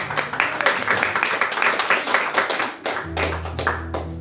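A church congregation claps hands in welcome for a presbyter at an evening Bible-school service, a dense run of overlapping claps that stays steady, with a low hum and a voice briefly audible near the end.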